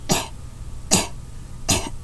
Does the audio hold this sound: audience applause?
no